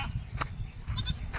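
A goat bleats a few times in short bursts, close and moderately loud over a low, rumbling background, with no talking.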